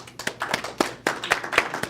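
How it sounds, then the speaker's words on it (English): At a real estate education seminar, audience members give a sparse round of applause: about eight separate, fairly close hand claps spread unevenly over two seconds. "all of us should give each other applause for those guys that raised their hand here"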